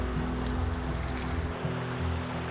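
A natural mountain waterfall of clear water pours with a constant broadband rush near Pelling, while a low steady engine hum drones underneath.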